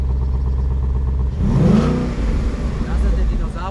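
A Ford Mustang V8 idles with a deep burble, then gets a short throttle blip that rises and falls within about a second before settling back to a rumbling idle, close and loud.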